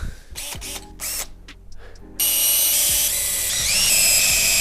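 A corded power drill whirs up after a couple of seconds of clicks and handling, then runs continuously with a shifting high whine, close and loud, while building a wooden ramp for an RC crawler track.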